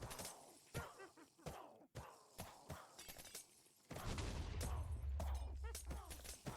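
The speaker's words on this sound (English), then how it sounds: "So those are what the random explosion sounds I've been hearing were." Random explosions in a heavily modded Minecraft game, Gregtech New Horizons, several sharp cracking blasts at irregular intervals followed by a rumbling burst, with faint voice-like sounds in the background.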